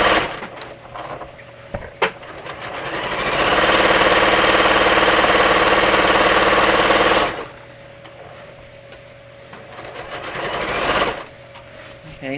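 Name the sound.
sewing machine stitching trouser crotch seam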